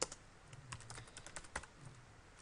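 Someone types code on a computer keyboard, an irregular patter of close, soft key clicks with brief pauses, no speech.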